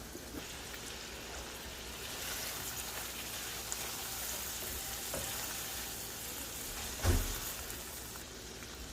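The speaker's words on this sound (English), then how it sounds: "we're gonna go ahead and add the shrimp" Shrimp sizzle in a hot pan alongside green and red bell peppers and onion, a constant dense crackle like rain with a brief louder clatter near the end and no talking.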